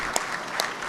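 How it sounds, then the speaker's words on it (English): A brief burst of applause from reporters at a press conference introducing a new football coach, scattered claps over about a second with a couple of sharper hand strikes. "you guys should be clapping about that"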